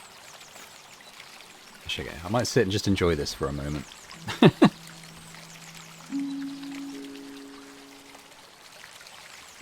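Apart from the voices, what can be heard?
water feature trickling in the video game Botany Manor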